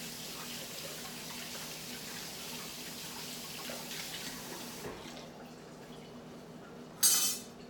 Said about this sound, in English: So let's wash our hands here.